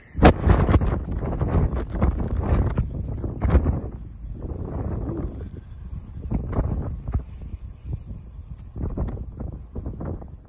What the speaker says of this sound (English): The wind is definitely moving.